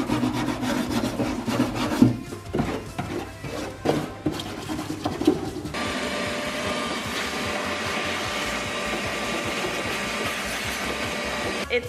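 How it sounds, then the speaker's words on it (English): Brisk brush-scrubbing strokes rasp against the interior of a Datsun 280ZX in an uneven rhythm, then give way to a steady mechanical whirring hum. "we need to scrub with a brush the inside of the interior"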